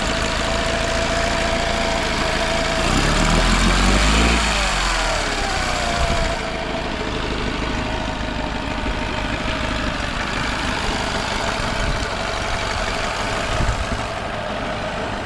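An outboard motor idles steadily nearby, holding a continuous loud mechanical drone whose pitch rises and wavers briefly early on before it settles back to an even idle.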